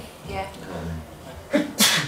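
A single loud, sharp sneeze bursts out near the end of a quiet moment at a film interview event with an audience, just after a brief spoken word.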